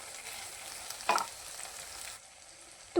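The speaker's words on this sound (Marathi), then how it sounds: "आणि थोडासा सब्जी मसाला टाकून घेऊया आणि मस्त फ्राय करून घेऊया." Sabzi masala fries in hot oil in a pan while cooking a makhana curry, giving a steady close sizzle with a brief stirring scrape in the middle.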